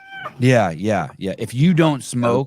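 A pet cat meows several times in quick drawn-out cries close to a microphone, with someone briefly talking in between.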